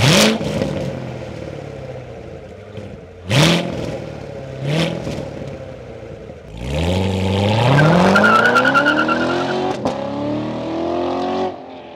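A Z51 Corvette V8 with stock NPP mufflers rumbles at idle, blips the throttle a couple of times, then revs up hard with a rising roar before settling back down.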